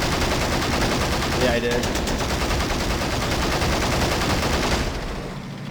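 Dense, continuous gunfire and explosions fill a battle in the video game Men of War: Assault Squad 2, loud and unbroken throughout before easing at the end, with a brief spoken reply over the din.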